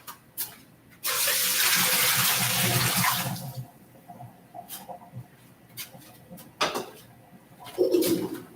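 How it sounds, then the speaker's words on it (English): Hot cooking water poured from a pot while making lazy ravioli: a loud, steady rush of splashing liquid lasting about two seconds, followed by faint clatter and small kitchen noises. "Pour the water out."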